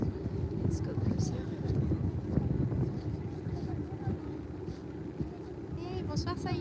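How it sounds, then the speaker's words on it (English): Strong gusting wind buffets the microphone at the Trocadéro in Paris, a constant loud roar with low rumbling throughout and brief higher tones near the end. "Really windy here."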